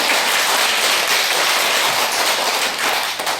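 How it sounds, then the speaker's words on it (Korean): An audience at a Buddhist dharma lecture claps together, a dense, steady patter of many hands holding loud and even before thinning slightly at the end. "박수 한번 치고."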